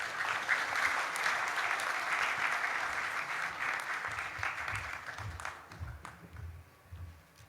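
An audience at The British College graduation ceremony applauds in a dense, sustained wash of clapping that holds steady, then thins and fades toward the end.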